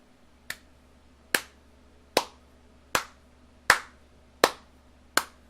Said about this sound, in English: I'll applaud that, man